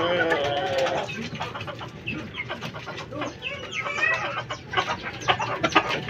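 Pet fighting roosters cluck and call close by while being fed, and someone talks over the birds throughout.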